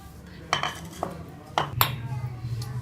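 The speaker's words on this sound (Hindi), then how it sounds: "सबसे पहले हम मिक्सिंग बाउल में चने डालेंगे।" Chickpeas tipped into a mixing bowl for papri chana chaat: several sharp clinks and knocks against the bowl at irregular intervals, close and fairly clear over a low background hum.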